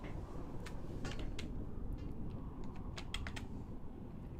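Clicking computer keyboard typing during a Final Fantasy XI gaming session, steady irregular keystrokes running throughout at a quiet level over a constant low background hum.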